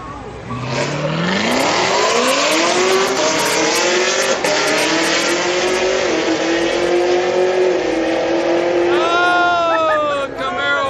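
A Corvette and a Camaro street racing at night, their engines revving hard in loud, rising sweeps that run together for several seconds before a fresh acceleration near the end.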